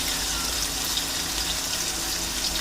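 Water pours steadily into a pan of spices in a home kitchen, a continuous close gushing and splashing with no breaks and no talking.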